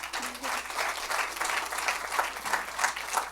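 A studio audience applauds steadily, a dense wash of many hands clapping at an even level throughout, with no voices standing out above it.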